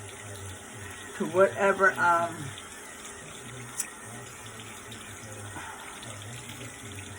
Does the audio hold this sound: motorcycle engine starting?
no